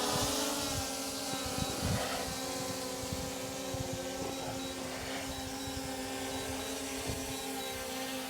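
A DJI Mini 3 Pro drone hovers and descends to land, giving a steady, thin propeller whine with a constant buzzing tone, moderately close and fairly quiet, alone without talking.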